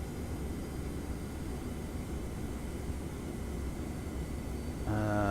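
Boeing 717 jet engines in a Prepar3D flight simulator, a steady broadband whine and rumble that holds evenly, then rises with a low humming tone near the end as power comes up for taxi.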